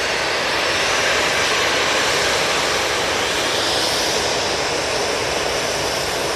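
An EasyJet airliner departs Manchester Airport with a steady, loud, broadband jet roar that holds without a break and shifts only slightly in tone.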